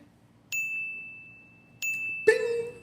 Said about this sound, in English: Where's the sound effect again? Bing. There it is.